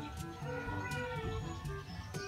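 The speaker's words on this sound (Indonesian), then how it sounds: "ini ada kucing liar teman-teman" A stray cat meows under a busy background of layered sound, with a few faint higher cries scattered across the short stretch.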